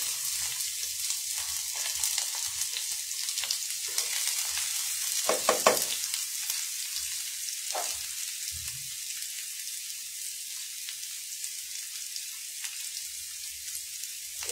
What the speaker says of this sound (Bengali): ওই যে পেঁয়াজ গুলো দিয়ে দেবো এখন